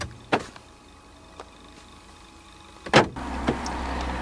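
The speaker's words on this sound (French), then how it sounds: "Actionnez la commande intérieure de fermeture centralisée des portes du véhicule." Central door locking on a 2018 Renault Clio 4, switched from inside the car, gives a few sharp mechanical clunks, one loud snap standing out among quieter clicks in the cabin.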